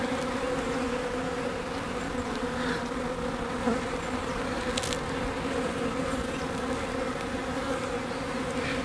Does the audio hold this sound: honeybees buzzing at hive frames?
yes